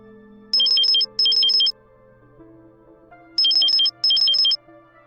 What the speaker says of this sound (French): C'était le téléphone de la ville.